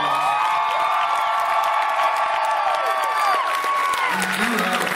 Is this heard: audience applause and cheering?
yes